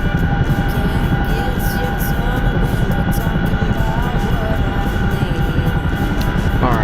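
An Apache helicopter in a military flight simulation drones steadily and loudly throughout, a dense continuous rotor and engine roar with a faint whine on top and no breaks.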